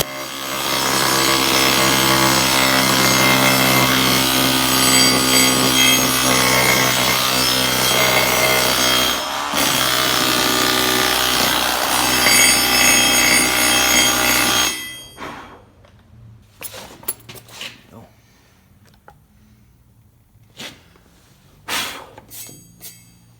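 Air-powered needle scaler running on a compressor, a loud, dense buzzing chatter that holds steady for about fifteen seconds with one brief dip, then cuts off into quieter scattered knocks and taps.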